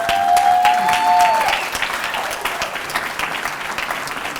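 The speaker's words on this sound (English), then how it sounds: "They wanted that applause to continue for a while." Expo Committee members are applauded at the Expo 2022 Rigel Awards. A crowd claps steadily for several seconds, with a brief whistle-like tone near the start, before the clapping eases slightly.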